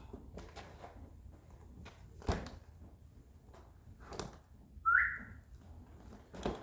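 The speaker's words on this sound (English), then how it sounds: "I'm whistling before pulling it off" A person gives one short, rising whistle to a horse while removing its saddle, heard amid scattered knocks, shuffles and tack handling noises nearby.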